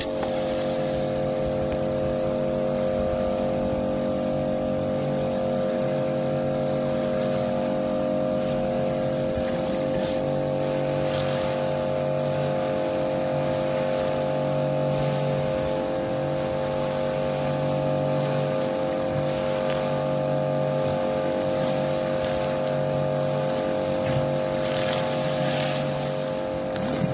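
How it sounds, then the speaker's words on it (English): A Karcher K4 Power Control pressure washer fitted with a surface cleaner on a brick patio drones steadily and loudly, a constant motor hum with a hissing spray that never pauses. "Let's see how this surface cleaner performs on an adjacent area"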